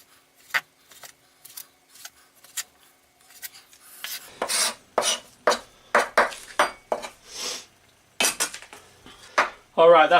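A knife chops steak on a cutting board in irregular sharp strikes, sparse at first then quicker and louder, with scraping and clattering between cuts.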